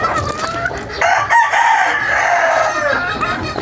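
A stag rooster crows loudly and close by, one long drawn-out call in a backyard flock, with faint clucking around it.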